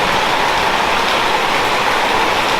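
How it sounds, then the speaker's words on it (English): Heavy tropical wet-season rain pours down steadily, a dense, even hiss of drops on surfaces close by, with no pause or talk over the short stretch. "Tropical thunderstorms in wet season."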